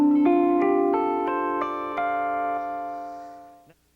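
Electric guitar plucking a rising series of notes with harmonics taken up an octave, each bright pinging tone ringing and overlapping with effects-laden sustain, played close and alone before fading out.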